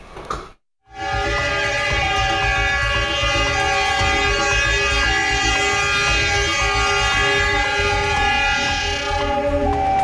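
A train horn blares loudly and continuously for several seconds over the heavy rumble of a passing train at a railway level crossing in Malang, Indonesia.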